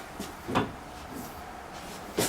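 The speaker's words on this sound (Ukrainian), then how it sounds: "Так закриваються двері." A few short, sharp mechanical thumps and clacks of the door of a 2004 Mercedes-Benz O530G Citaro articulated bus shutting, fairly close, with a final louder clunk at the end.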